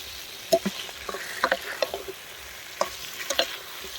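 Boiled goat trotters being stirred and fried in thick spice masala in a pan, with a steady sizzle and repeated scraping strokes of a spoon at intervals, close by with no talking.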